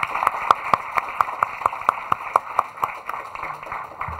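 A small audience at an academic lecture on Brazil's fiscal situation claps for the speaker, a sparse, rhythmic run of distinct handclaps in a room, thinning out toward the end.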